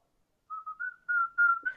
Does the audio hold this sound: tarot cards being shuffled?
no